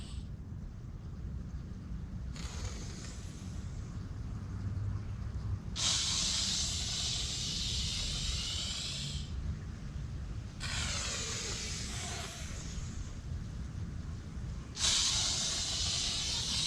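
Long shushing breath exhales during a qigong exercise, four drawn-out hissing breaths of several seconds each, close and breathy, separated by quieter pauses over a low room rumble.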